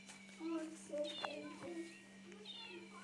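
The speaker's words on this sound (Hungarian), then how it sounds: "De ne nyávogjon már." A cat meows repeatedly, close by, in drawn-out cries while people talk at the same time over a steady electrical hum indoors.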